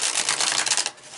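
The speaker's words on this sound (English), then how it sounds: "for this deck I've realized it shuffles better in reverse" A tarot card deck is riffle-shuffled up close, producing a quick, loud flutter of rapid papery clicks lasting about a second.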